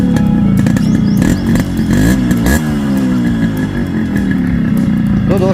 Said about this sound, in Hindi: तो दोस्तों ये मेरे बाइक की ओरिजिनल साउंड है